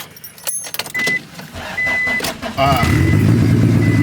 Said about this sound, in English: this car hasn't been started in months, and that little thing started it right up